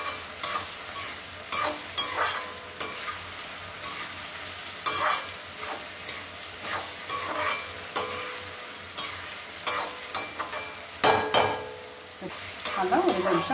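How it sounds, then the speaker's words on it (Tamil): Green beans sautéed in a pan for rava kichadi, with a continuous gentle sizzle and repeated close scraping strokes of a spatula stirring, no voices. "இந்த பீன்ஸ் எல்லாம் வதங்கணும் இல்லையா, அதெல்லாம் ஒரு 2 நிமிஷம் ஒரு வதக்கிட்டு மூடி வச்சிடலாம்"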